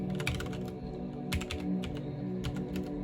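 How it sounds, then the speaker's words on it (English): Typing on a CM Storm XT mechanical keyboard with smooth linear switches produces quiet, uneven clusters of soft key presses, close up, over a low steady background hum. "I don't think the typing sound is very loud."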